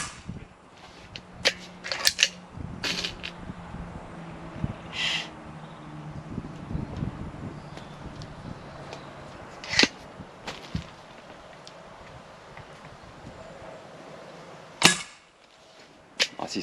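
A Langley Silencer break-barrel air pistol fires a handful of sharp, faint snapping shots spaced irregularly over quiet background hiss, with small mechanical clicks between them.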